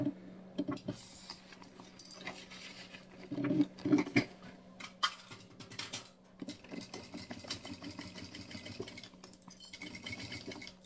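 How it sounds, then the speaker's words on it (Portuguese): Sewing machine stitching along the edge of fabric for an insulated bottle holder, running in bursts of rapid mechanical whirring with short pauses between, close and fairly quiet. "a gente passa uma costura bem na beiradinha aqui"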